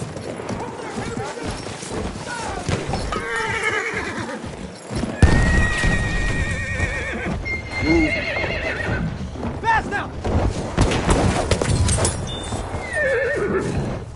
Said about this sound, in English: Another horse.